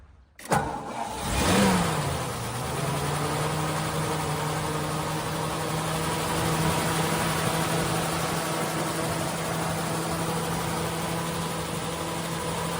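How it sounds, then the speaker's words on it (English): A 1948 Ford Super Deluxe Tudor's flathead V8 cranks and catches, flares briefly, then settles into a steady, even idle that stays close and constant, with no talking. "I love the look of that flathead V8. Oh. It's just a beautiful motor. Let's start it up."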